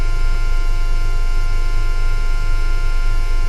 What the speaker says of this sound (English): This is the noise of ELIKA.